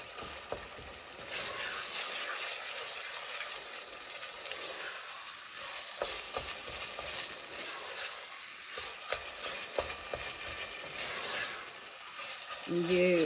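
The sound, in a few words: chicken keema frying in a pan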